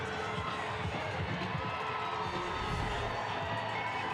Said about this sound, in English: The crowd here at McMahon absolutely eating this up with the spoons.